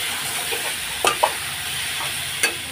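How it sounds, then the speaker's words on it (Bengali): Spices sauté in a pan for dal with a continuous hiss of frying, broken by a few sharp scrapes and clinks of a spoon, close and without talk. "এখন সব মশলাগুলো দিয়ে কষিয়ে নেবো"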